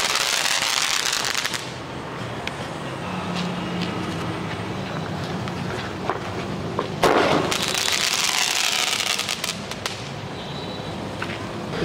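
Skywala night firework, a Gold Coin pipe-type shell, going off outdoors in a sustained hissing, crackling rush with sharp bursts in the middle, moderately loud throughout.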